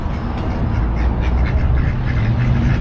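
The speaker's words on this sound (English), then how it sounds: "They have ducks hanging out here at a gas station" Ducks loiter around a gas station, their busy quacking mixed into a steady, loud, rumbling background of wind or traffic noise that runs the whole time, with no voices over it.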